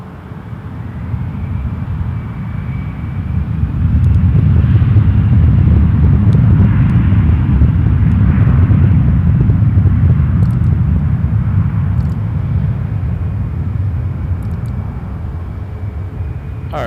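A CRJ-900 regional jet at Toronto Pearson Airport rumbles loudly nearby, a low engine roar that swells after a few seconds and holds steady, with faint radio chatter beneath.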